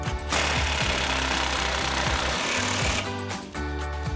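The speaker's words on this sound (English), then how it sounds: "I'm going to grab my impact 18mm socket" Impact wrench tightening an 18mm nut on a front stabilizer bar link of a 2019-2026 RAM 1500, a loud rapid hammering burst of about three seconds followed by a shorter second burst, close up with no talking.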